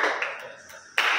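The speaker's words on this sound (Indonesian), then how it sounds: "Tepuk tangan buat kakak kita." Audience of santri at a public speaking training session clapping hands, a short burst of applause that dips and then swells again loudly near the end.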